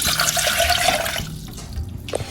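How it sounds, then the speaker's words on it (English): Two cups of water poured into a pan for tea, a steady close splashing and rushing of liquid that eases off toward the end, with no talk. "get 2 cups of water, and we're gonna put it in our pan"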